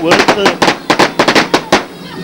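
Celebratory gunfire at a Kabyle Mawlid festival in Cheurfa Ouadhias: a rapid, loud series of sharp cracking shots, around a dozen bursts in irregular rhythm, filling the whole moment.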